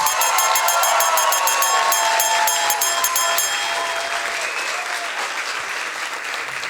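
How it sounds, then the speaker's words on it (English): Audience applause at a science slam event, dense clapping that fills the hall loudly at first, with some regular rhythmic clapping early on, then gradually thins and softens toward the end. "Big applause for June."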